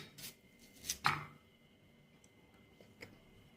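A knife chops raw yacon root, the Peruvian ground apple, for salad: a couple of sharp close cuts followed by faint lighter taps in a quiet room.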